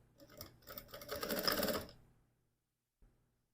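A sewing machine stitches a seam through fabric, its needle chattering in a fast, close, rapid run that rises and stops after about two seconds, with a short final clack a moment later.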